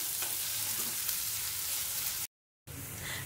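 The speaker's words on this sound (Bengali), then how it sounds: "এটা ভালো করে ভাজা ভাজা করে নেব।" A handful of onions fries in a pan with a constant dense sizzle and scrape, loud and close. It cuts out briefly near the end and then resumes.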